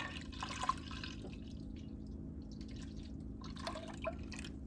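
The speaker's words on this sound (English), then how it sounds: "pour our milk in. Both quarts. Okay. Let's get our other one in." Two quarts of milk pour into a pot on the stove for homemade cottage cheese, a faint liquid splashing and trickling in short bursts.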